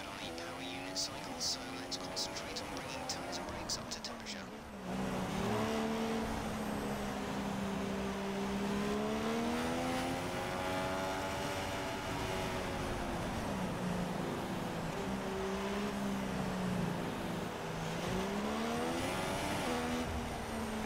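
Race cars idling, then revving and rolling off on the formation lap at the Spain circuit in a racing video game; engine drone rises and falls in pitch continuously, with quieter clicking and talk before the cars pull away.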